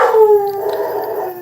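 A dog howls in one long, close wavering cry that slowly falls in pitch and fades. It is set off by a noisy clock in the room.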